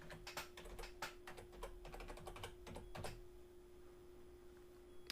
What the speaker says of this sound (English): We'll just type in WooCommerce.